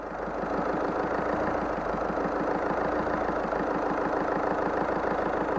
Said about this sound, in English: Just stop that there now, and we'll go for a start up. There we go, we're running.